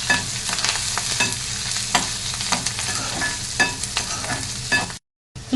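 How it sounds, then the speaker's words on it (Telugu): Green chillies, garlic cloves, curry leaves and onions fry in a hot pan for thotakura curry, a steady close sizzle broken by repeated scraping stir strokes, with a brief drop to silence near the end. "వేగేంత వరకు వేయించుకోవాలి."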